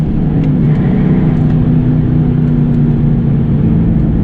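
A 2001 Trans Am with a six-speed manual accelerates hard, its engine a loud, steady droning roar heard from inside the car, sustained without pause.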